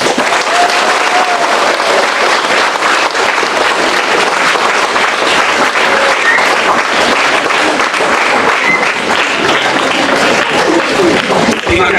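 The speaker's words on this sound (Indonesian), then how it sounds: "memberikan tepuk tangan meriah kepada guru kita selama setahun." Loud, sustained applause from an audience honouring teachers at an Indonesian Teachers' Day talk show, dense clapping filling the room with scattered voices underneath.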